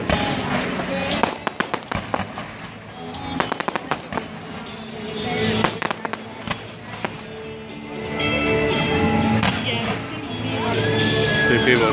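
Fireworks burst over a minor-league baseball game on the Fourth of July, with a rapid string of loud cracks and booms, some clustered in quick volleys, over a steady crowd murmur and occasional voices nearby.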